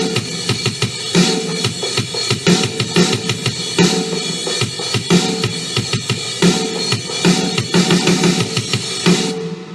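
A recorded drum kit pounds out the opening beat of a rock song in a steady, loud rhythm of kicks and cymbal crashes, dense and driving for the whole stretch before cutting off at the end.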